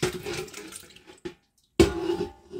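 Tomato juice pours into an old pot with a steady watery gush, stops for a brief silence, then a second heavier pour starts and continues; no talking.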